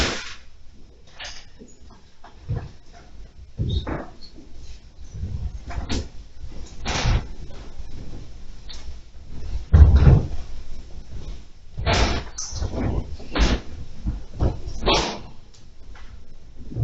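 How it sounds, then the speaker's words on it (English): Several scattered knocks, creaks and thumps from a door being pushed open and closed during a walk-through of an old historic house, moderately close, with intermittent quiet gaps between the impacts. "You can go ahead and push through that door."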